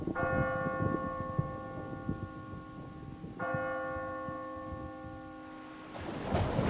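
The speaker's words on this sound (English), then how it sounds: "Bell." A church-style bell sound effect in a video game puzzle rings with long sustained harmonic tones, struck once and then again about halfway through, each strike decaying slowly over a low rumbling background.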